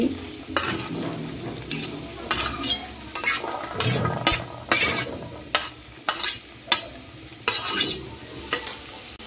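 Vegetables including onion flowers, capsicum, egg, cabbage and peas frying over a high flame, a crackling sizzle punctuated by a regular run of spatula scrapes and knocks on the pan, close and lively.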